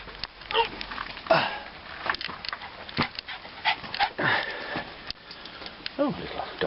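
A dog sniffs and pants in short bursts while exploring a stairwell in an abandoned building, fairly close, with rustling and faint human breathing around it.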